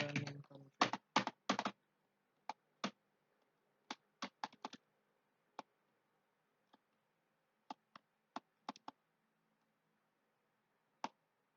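A computer keyboard is used to type router commands such as enable and show running config, starting with a quick burst of keystrokes and then thinning into sparse single taps spread over several seconds, close and quiet.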